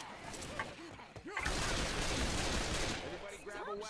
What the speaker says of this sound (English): I'm going to shoot the zombies.